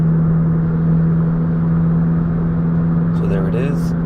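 A car driving, played back through a LUNGDU LD02 dash cam recording, giving a steady low engine drone with a constant hum throughout and a faint voice rising briefly near the end.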